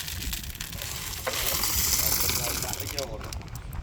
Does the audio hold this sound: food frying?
yes